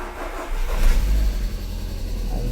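A Volkswagen Gol 1.6 engine catches and starts on a freshly connected car battery, rising into a steady low idle rumble close by, with no talking.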